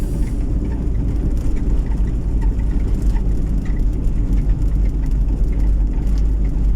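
A bus engine runs steadily throughout, a continuous low rumble with a loud, dense low end and a faint hiss above, heard up close at a stop in Negros Occidental, Philippines, with no talk over it.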